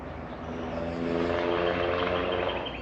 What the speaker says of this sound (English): Of course you've got the noisy cars in the distance.